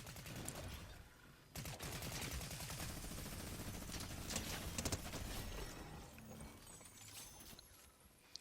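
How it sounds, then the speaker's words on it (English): Rapid bursts of gunfire in the Fortnite video game out toward the storm zone, quiet and dense rattling volleys with a faint clip-clop-like patter, no talking. "Heard some more people firing out here towards the storm zone."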